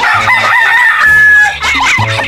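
A fighting rooster crows loudly and close by, two or three harsh, drawn-out crows in quick succession, with no talk over it.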